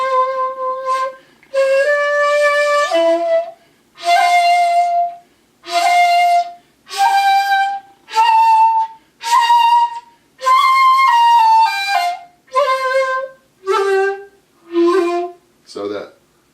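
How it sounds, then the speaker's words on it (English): A bamboo shakuhachi flute plays a scale as a series of separate sustained notes, each stepped in pitch and split by short silences. The notes are clear, breathy and close, with no voices over them. "on a shakuhachi, a scale might sound like this"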